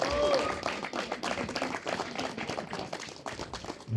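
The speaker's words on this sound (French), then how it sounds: "On peut les applaudir encore." Audience applause at a padel tournament final: a crowd claps steadily for several seconds, fairly close and even, with a voice briefly over it and a short tone near the start.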